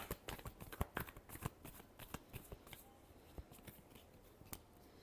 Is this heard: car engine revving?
no